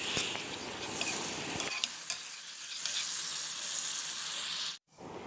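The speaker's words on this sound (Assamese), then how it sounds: "মই অলপকৈ পিঁয়াজ দি ফ্ৰাই কৰি থাকোঁ মাংসখিনি" Meat frying with onions in oil, a close, continuous sizzle with scraping stirs and occasional clacks of a utensil, cutting out abruptly near the end before resuming.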